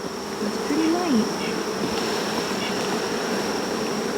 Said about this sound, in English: Yeah, get all those bees off there.